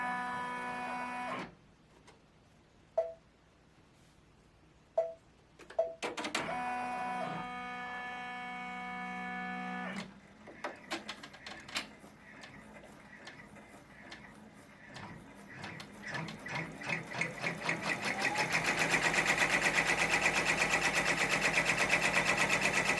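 A sewing machine stitches a large composition notebook cover, starting and stopping in short runs before a long, steady whirring stitch builds louder near the end, with faint taps and clicks between runs.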